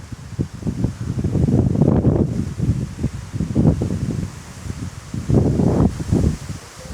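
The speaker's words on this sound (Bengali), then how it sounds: "বাতাসে গাছ টাছ ভাঙা যাওয়ার মতো অবস্থা হইতেছে, মুচুর মুচুর আওয়াজ।" Strong wind rushes and gusts through trees in a village in Papua New Guinea, leaves rustling in surging waves and trees creaking, loud and close, with no voices.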